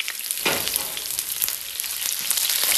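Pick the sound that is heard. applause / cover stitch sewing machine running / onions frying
onions frying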